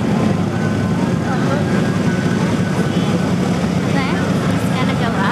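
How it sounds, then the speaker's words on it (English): A P-51 Mustang, a classic World War II propeller fighter, at an air show, its engine droning loud and continuous close by over crowd and wind noise. "Beautiful look at the classic B-51 Mustang."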